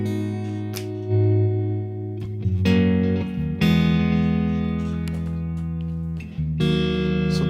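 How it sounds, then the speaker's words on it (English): Electric guitar played through an echo effect at a 120 tempo, sustained chords and notes ringing with repeating delayed trails, several loud strums spaced across the passage with no talking. "Another one with the echo was like this."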